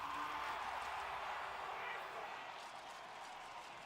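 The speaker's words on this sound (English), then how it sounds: "Wow, listen to that crowd surge" Crowd roar surging through an esports arena during a Counter-Strike match, a broad, sustained wash of cheering that starts loud and eases slightly, faint and distant.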